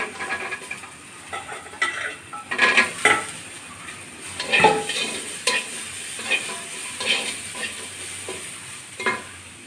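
Garlic cloves and chopped onion are stirred in a dry, unoiled wok for a pumpkin-leaf bhorta, making repeated scraping and clinking strokes with faint sizzling, close and steady, with no talking.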